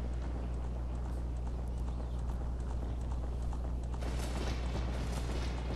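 Rapid rhythmic hoofbeats of a galloping horse in the video game The Legend of Zelda: Ocarina of Time, under a constant dense background of game music and noise, growing slightly louder near the end.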